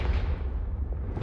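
A Confringo spell from Hogwarts Legacy bursts in one short, dense, booming blast that rolls on briefly and fills the whole clip, loud and close with no voices.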